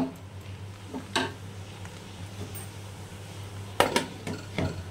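A spoon stirs shrimp polao rice with a little sugar in a pot, Barishal-style mixed pilaf, giving scattered scrapes and light clinks against the metal over a steady low stove hum, with no talking.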